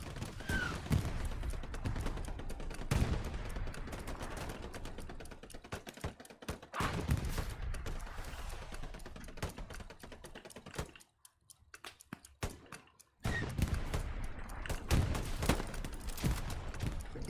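Rapid bursts of video game gunfire crackle repeatedly, with a brief near-silent pause midway before the shooting resumes.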